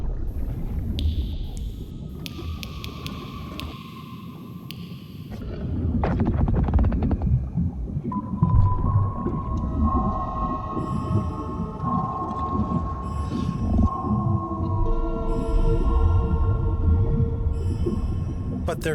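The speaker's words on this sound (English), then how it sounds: "The song of baleen whales can in some conditions travel across entire ocean basins" Long, tonal whale song calls rise and hold in overlapping layers over a deep rumbling underwater background, with a few brief clicks early on.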